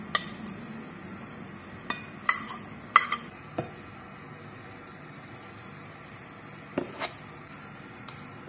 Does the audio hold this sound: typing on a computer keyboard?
no